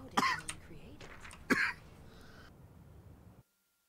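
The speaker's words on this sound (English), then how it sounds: "Random coughing fits." A person coughs and clears their throat in a short, harsh fit, with two strong bursts and some smaller ones over a low room hum that cuts off near the end.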